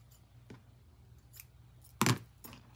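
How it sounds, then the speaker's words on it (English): Scissors trimming a brooch made from denim and fabric, a few isolated snips spaced apart with one louder, sharper cut near the end, close in a quiet room. "Let's just trim it up and see what it looks like."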